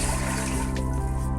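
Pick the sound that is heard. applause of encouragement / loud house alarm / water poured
water poured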